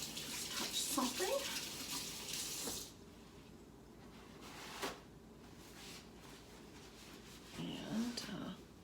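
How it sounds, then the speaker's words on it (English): Hands being washed under a running kitchen tap during banana food prep: a steady, fairly quiet rush of water throughout, with brief louder splashes and faint voice sounds near the start and end. "I have to wash my hands a little bit"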